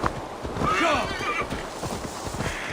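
A horse in Assassin's Creed Valhalla whinnies with a wavering neigh, then hooves clip-clop steadily underneath, while a person talks over the game sounds.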